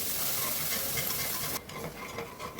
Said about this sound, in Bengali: এখন সব মশলাটাকে ভালো করে কষিয়ে নিতে হবে